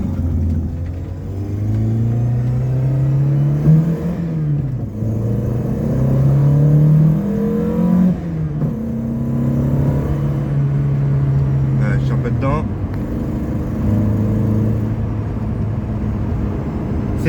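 Peugeot 205 CTI 1.6 convertible engine pulling hard through the gears, a loud, steady in-car drone that rises in pitch with each short shift dip, with people talking over it.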